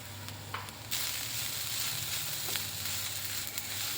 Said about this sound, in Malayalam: ഇതിലേക്ക് 3 ടേബിൾ സ്പൂൺ തേങ്ങ ചിരകിയതാണ്. അതും കൂടി ചേർത്ത് ഇളക്കി യോജിപ്പിക്കാം.